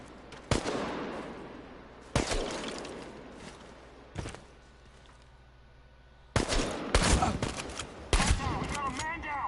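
Gunfire in the video game Chernobylite, sharp loud shots in irregular bursts, some single cracks and a rapid cluster near the end, with game voices shouting between them.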